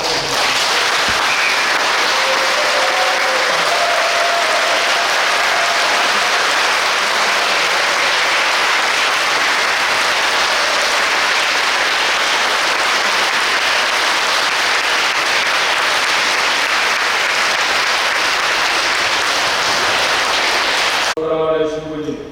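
Sustained, dense applause from a church congregation honoring a retiring parish priest, steady and loud for about twenty seconds before it stops abruptly.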